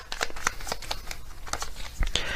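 Tarot message cards being shuffled by hand, a run of quick papery riffles and flicks with a few sharper snaps, close and fairly soft, no voices.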